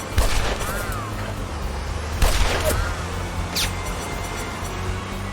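Rockets launched in the Lost Horizon video game, with sharp bursts near the start and again just past two seconds, each followed by whistling streaks over a steady, noisy game background.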